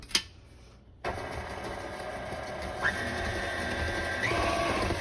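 An electric mixer switches on after a short click and runs steadily, blending pumpkin puree into pumpkin loaf batter, a close motor whir that shifts pitch partway through.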